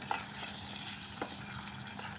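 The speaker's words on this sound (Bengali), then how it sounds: "এখন এই যে টমাটোর, পেঁয়াজ, কাঁচামরিচ। তো এগুলো আমি ভাজা ভাজা করে নেব" Chopped tomatoes, onions and green chilies frying in a pan, giving a steady close sizzle broken by soft stirring scrapes, with no talking.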